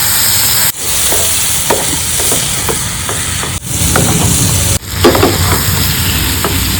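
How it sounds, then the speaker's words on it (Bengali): Mushrooms frying in a hot pan of spices, a continuous loud sizzle broken by three sharp clattering spatula stirs and scattered crackles and pops. "আমি মাশরুমগুলো দিয়ে দিচ্ছি।"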